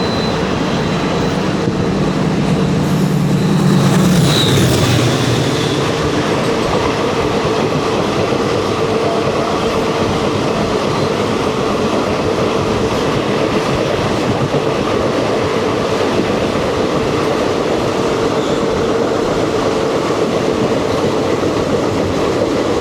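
Mysuru to Hubballi special passenger train running steadily, a loud continuous rumble and rattle of wheels and carriages close by, with a brief louder rush early on and no talk.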